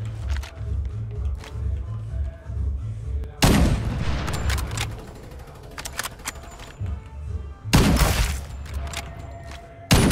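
Rapid gunfire bursts from the Farlight 84 battle royale game, with a steady rhythmic thumping underneath and several loud, sharp volleys cutting in, close and dense.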